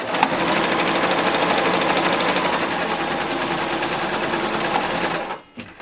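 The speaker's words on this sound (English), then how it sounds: "First we're going to stitch both arcs, curves, as you will" A sewing machine stitching curved mask fabric pieces runs in one fast, steady whirring burst for about five seconds, then stops abruptly.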